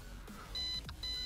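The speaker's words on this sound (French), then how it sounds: "Ah, j'ai un petit bip." Low-battery warning beeps from an MJXRC MEW4 drone flying at a distance: two short steady electronic tones sound over a continuous low rumble, with no one talking.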